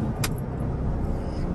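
A 2021 Porsche 911 Turbo S heard from inside under hard braking, with a dense, loud low rumble of road and tyre noise and a brief sharp rattle early on.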